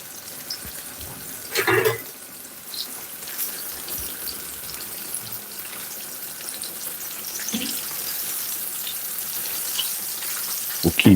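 Breaded chicken schnitzels sizzling steadily in a frying pan, a continuous crackling hiss with a few louder pops and clatters, no talk.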